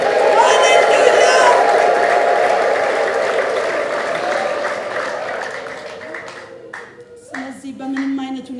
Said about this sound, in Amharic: ስለዚህ ጌታ ጭብጨባ ልታ ይገባል።